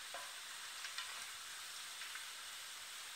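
Frozen shrimp and stuffing filling frying in a pan over high heat give a steady, quiet sizzle with a few faint stir clicks, no talking.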